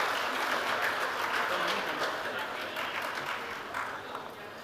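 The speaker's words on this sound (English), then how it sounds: "A round of applause for Mr. Manish Malhotra." Sustained audience applause at an event, loud and dense throughout, a crowd clapping together without pause and fading slightly toward the end.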